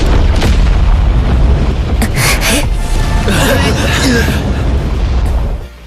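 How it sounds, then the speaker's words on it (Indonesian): A loud, sustained rumbling explosion in a fantasy fight scene, shaking an arena, with roaring, crackling debris-like bursts throughout before it abruptly cuts off near the end. "Setelah ledakan yang mengguncang seluruh arena"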